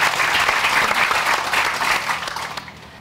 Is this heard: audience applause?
yes